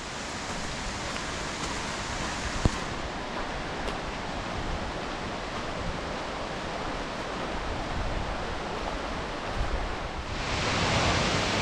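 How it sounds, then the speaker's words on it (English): Steady broadband rush of a waterfall at Ripley Falls in Crawford Notch State Park, New Hampshire, heard from a clifftop as water runs below; a continuous, fairly loud wash with no talk. "We're up on the top of a cliff here with the water running below us on the left."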